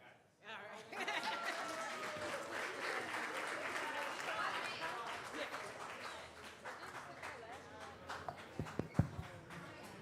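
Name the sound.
round of applause at a city council meeting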